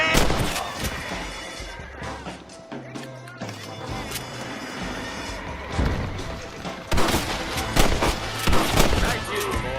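Rapid, loud gunfire rattles in Red Dead Redemption, with dense bursts of shots and crashing impacts through the whole stretch, and a voice briefly heard among the shooting.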